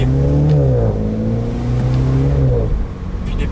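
Mini John Cooper Works Cabrio (2018, F57 LCI) with a cold exhaust, engine note rising and dropping through quick gear changes, a loud steady drone with pitch steps close by.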